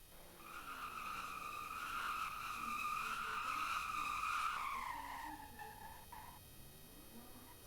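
Car braking and skidding in the video game Drift Paradise, a long loud tire squeal holding steady then sliding down in pitch as it fades, with no talk.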